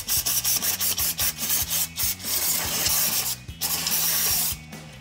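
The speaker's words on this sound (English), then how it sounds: "I'm going to throw in a little bit more of the brake part cleaner" Brake part cleaner sprayed onto a front brake caliper of a 2009-2018 RAM 2500 pickup, heard as a rapid series of short hissing bursts and scrubbing rubs, loud and close, followed by a longer continuous spray.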